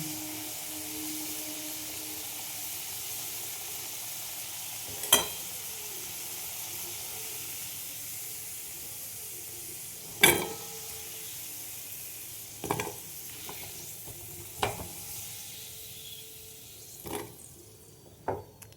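Potatoes frying in hot oil for a potato and eggplant dish give a steady low hiss throughout, with a few sharp spatters and clinks spaced through the middle and end.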